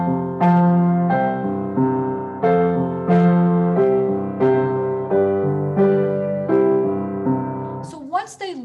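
Simple piano arrangement from a leadsheet with basic left-hand patterns: steady chords and melody notes in a regular rhythm, close and clear, with a brief voice-like sound at the very end.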